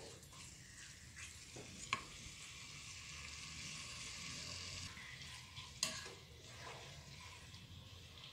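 Beef sautéing in a pan as the base for a cassava broth, a steady soft sizzle with stirring and two sharp utensil clinks against the pan, no talking.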